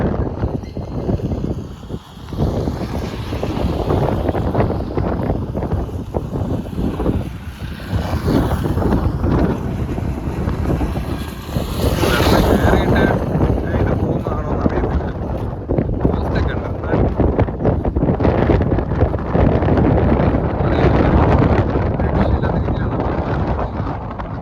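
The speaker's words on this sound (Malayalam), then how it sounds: "ഒരു രക്ഷയില്ലാത്ത കാറ്റാണ് കേട്ടോ വെളിയിൽ." Strong outdoor wind gusts across open ground near spinning windmills and coconut groves in Tenkasi, Tamil Nadu, roaring and buffeting the microphone loudly and continuously throughout.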